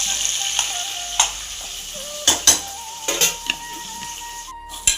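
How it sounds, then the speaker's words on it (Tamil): Sliced onion frying in a pan for biryani, a steady close sizzle with occasional sharp clinks and scrapes of a spoon stirring against the pan. "இப்போ இதெல்லாம் நல்லா பொரியட்டும்."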